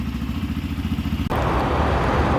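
A motorcycle engine idles with a steady low throbbing pulse after a cold start, then a sudden shift midway to a louder, rougher, broadband running roar as the bike prepares for a ride from Mumbai toward Shirdi.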